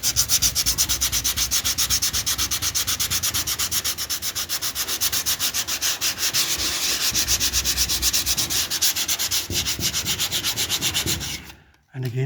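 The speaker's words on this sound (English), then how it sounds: "you can see the low spot has still got the paint in it and the high spot's getting rubbed off" Hand sanding of paint runs on a Sprinter T1N van body: a steady, rapid back-and-forth scratchy rasp of abrasive on painted metal, close and continuous, stopping briefly near the end with no voices.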